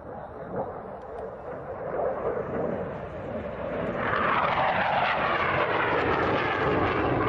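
A JF-17 Thunder fighter jet, a joint Pakistani-Chinese aircraft, roars overhead at an air display, engine noise building and rising in pitch into a loud sustained rush near the end.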